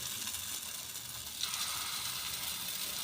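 Paddu batter is poured in small amounts into the hollows of a hot paddu pan and gives off a steady, soft sizzle and crackle, with a slight flare around the middle.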